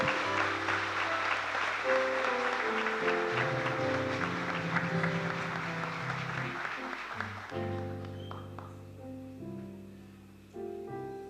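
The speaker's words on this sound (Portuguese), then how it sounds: "Vamos aplaudir ao Senhor" A church congregation claps in sustained, dense applause for several seconds, then it fades out while soft keyboard chords carry on alone.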